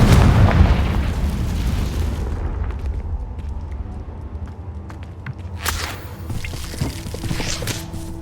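A Confringo blasting spell explodes in the Hogwarts Legacy video game: a loud, deep boom at the start rolls into a long rumbling decay. A second sharp burst crackles near the end over a low ambient drone.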